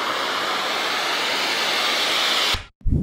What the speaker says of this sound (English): Before the build up, add some risers and some down filters.